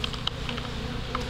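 Honey bees buzz continuously around hive frames, a dense low drone up close with individual bees whining past now and then, no talking.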